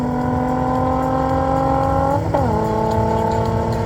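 Two race cars, a Polo GTI and a naturally aspirated VR6, roar together at steady high revs, with a brief shift in engine pitch midway, loud and close with no talk.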